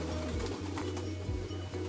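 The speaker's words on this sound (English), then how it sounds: "it's dusk here, and these pigeons are trying to get back in their coop" Pigeons coo softly at dusk near their coop, low rhythmic throaty calls repeating close by under a faint background hiss.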